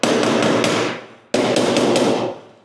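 A hammer strikes a Land Rover Series 3 rear body panel in two quick rapid volleys of loud, ringing metallic blows, each volley fading out before the next.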